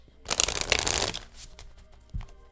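A deck of playing cards riffled in a quick shuffle, a close, loud rapid fluttering burst lasting about a second, then softer handling sounds and a light tap.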